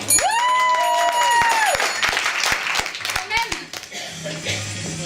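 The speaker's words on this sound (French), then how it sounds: "On applaudit bien fort le matériel." An improv theatre audience claps loudly in a dense, sustained round of applause that slowly tapers off. A bright whistling tone sweeps through near the start, and a voice speaks briefly over the end.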